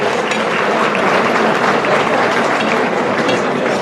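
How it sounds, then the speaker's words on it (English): Sustained audience applause at an awards gala dinner, many hands clapping in a dense, even roar that fills the room without pause. "Can we have another huge applause for Wally Mahana?"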